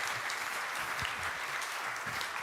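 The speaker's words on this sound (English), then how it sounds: "I ask you for a huge round of applause for marvelous speakers" An audience at a Baltic defense conference gives the speakers a round of applause, a steady, moderately distant wash of many hands clapping with no voices over it.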